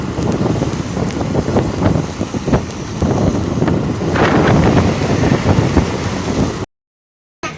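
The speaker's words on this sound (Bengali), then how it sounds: "এত বৃষ্টি ভালো জোরে আরম্ভ হয়ে গেল।" Heavy rain pours during a 100cc motorcycle ride toward Digha, a loud steady wash with wind buffeting the microphone and rumbling gusts, cutting out abruptly near the end.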